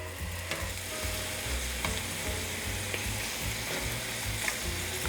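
Squash samosas frying in a pan, a continuous loud close sizzle and crackle of hot oil with stirring noises running throughout.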